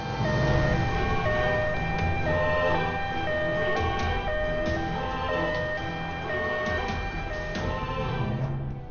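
An ambulance siren wails steadily in a repeating tonal pattern, moderately loud and continuous, with a slight rise and fall in pitch and no voices over it.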